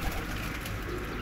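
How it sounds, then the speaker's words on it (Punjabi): Pigeons in a loft colony of fancy breeding birds coo softly and steadily, faint and close, with no voices over them. "ਕਬੂਤਰਾਂ ਦੀਆਂ ਕਲੋਨੀਆਂ ਦੇਖੋ"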